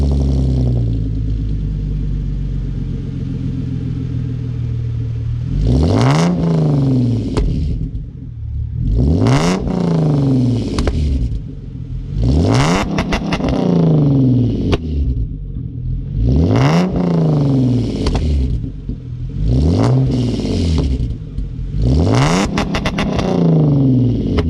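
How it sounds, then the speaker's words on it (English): A Genesis Coupe fitted with a Solo Performance exhaust revs repeatedly from idle, about six sharp, loud blips that rise and fall in rhythm, each climbing to a raspy howl before dropping back to a low rumbling idle. "let's go ahead and get some revs, get some full sends, and just give you guys the full experience of the solo performance exhaust."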